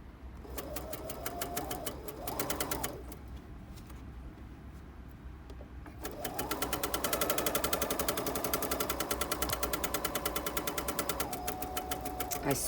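A sewing machine stitches fabric for a drawstring bag in quick mechanical bursts. It pauses for a few seconds, then runs in a long, steady, rhythmic stretch, near and clear, with no talking.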